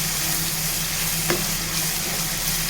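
Tomato and green pea curry, Telangana style, sizzles in a pan over a medium gas flame, a soft, even frying hiss throughout with one small stir or tap midway and no voices.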